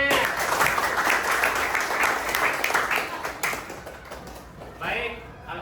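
Audience applause for a speaker at a classroom teaching session, a dense burst of many hands clapping that gradually thins and fades, with a voice briefly heard toward the end.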